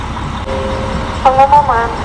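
A new Surabaya-bound bus with Tentrem Avante bodywork idles at a bus terminal, its engine a low continuous rumble, with a couple of short horn-like tones sounding near the end amid background terminal noise.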